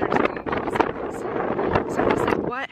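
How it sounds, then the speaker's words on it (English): Gusty desert wind buffets the microphone in a loud, rumbling roar with quick bursts, near and constant over the short span, with a voice partly under it. "I'm sorry if it's very windy."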